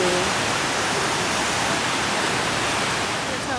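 A waterfall pours in a continuous, loud, broadband rush that stays steady and close throughout, with no voices over it.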